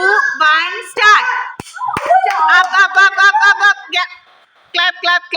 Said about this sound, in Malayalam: clap clap clap clap